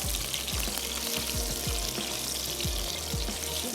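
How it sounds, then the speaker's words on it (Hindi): Meat sizzling and crackling in hot oil for a black pepper karahi, a dense steady frying hiss with occasional pops and stirring. "इसको अच्छा सा फ्राई होने देते हैं।"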